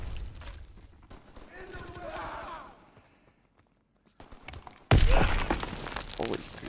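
A grenade blasts in a Call of Duty WWII hardcore team deathmatch: voices and scattered game noise, a near-silent gap, then a sudden loud, close explosion whose roar rings on to the end.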